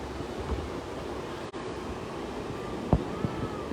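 A waterfall in a Japanese garden in Sydney keeps up a steady, close rushing wash of water throughout, with a couple of faint knocks and no talking.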